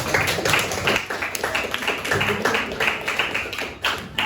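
A room full of people claps together, a dense run of sharp hand slaps with an uneven rhythm, close and fairly loud, lasting throughout without pause.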